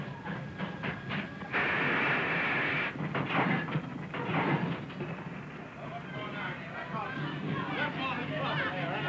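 A train in an early sound-era comedy film rumbles along steadily, its rolling noise running beneath several people talking over it.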